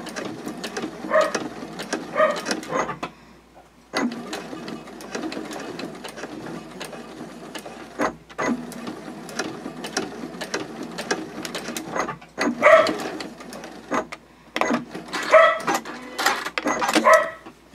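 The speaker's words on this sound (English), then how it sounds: "I'm going to sew the two sides of the strap together right along that seam line" A sewing machine stitches a strap seam on a card clutch in repeated bursts of fast mechanical whirring, separated by short pauses, with no talking.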